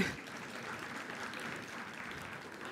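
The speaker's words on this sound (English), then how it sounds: "we need a clap for that" Audience applause at a Jamaican diaspora conference, steady broadband clapping from a crowd lasting the whole moment, moderately distant and even in loudness with no talk over it.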